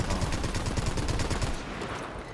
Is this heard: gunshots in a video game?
yes